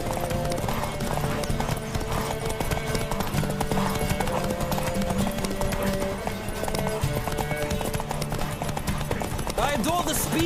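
Roach the horse gallops in The Witcher III, a continuous fast drumming of hooves up close under game music, with a voice shouting briefly over the ride.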